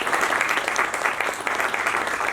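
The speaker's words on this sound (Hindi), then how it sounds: "एक बार मैम के लिए कोई जोरदार ताली होनी चाहिए।" A seated audience in a pavilion breaks into steady, dense applause, many hands clapping at once at moderate volume with no pauses across the short stretch.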